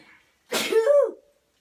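A single sharp sneeze bursts out close to the microphone, a sudden breathy explosion that trails into a short voiced tail before the room falls quiet.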